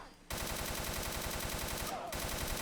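Rapid sustained bursts of a light machine gun in Fallout 4 (New Vegas weapon mod), loud and close, with rhythmic rounds firing almost continuously after a brief pause at the start and a short gap near the end.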